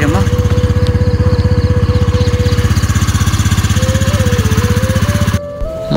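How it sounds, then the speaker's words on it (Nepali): A scooter engine idles steadily after being started, a close, continuous rhythmic putter that runs for most of the stretch before cutting off near the end. "स्कुटर चाहिँ यहाँ स्टार्ट भएर चाहिँ बसिरहेको छ"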